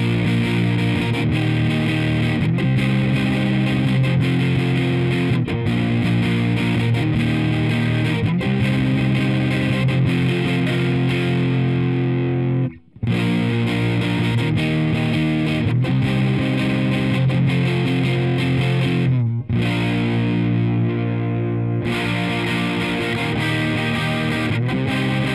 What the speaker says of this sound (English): Now I'm going to try the Diving Bells by Bookworm Effects, which is my favorite new dual drive.